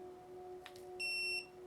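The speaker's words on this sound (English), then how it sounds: "And it beeped" A Bishop Power Wand tattoo shader gives a single clear electronic beep when switching modes, a steady tone lasting under half a second, close and quiet over a faint constant hum, with no talking.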